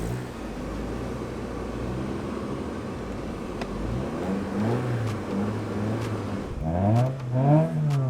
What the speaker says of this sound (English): If you guys think it sounds like a Civic, it's because it is a Civic